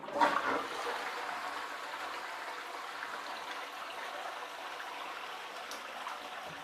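European toilet with a large tank flushing nearby, an initial gush followed by a steady, fairly loud rush of water that keeps draining and running for several seconds, with no talking.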